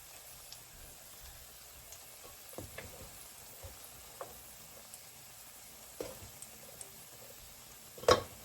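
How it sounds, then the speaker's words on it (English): Quiet, steady sizzle of salmon croquettes frying in grease, with occasional soft pops and crackles and a sharper spatter near the end. "Then frying sound."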